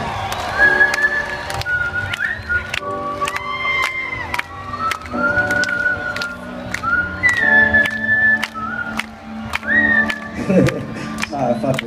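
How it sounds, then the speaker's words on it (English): Whistling carries a melody during a live folk-pop performance of a song, bright sustained whistled notes over strummed rhythmic accompaniment with regular percussive hits. "With the whistle."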